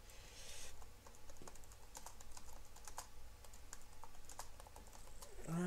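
Computer keyboard typing in a steady patter of quick clicks, heard up close during a Minecraft session, with a faint background bed beneath the keystrokes.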